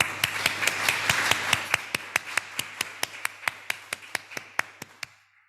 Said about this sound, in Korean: 우리 서로를 향해서 박수로 환영하도록 하겠습니다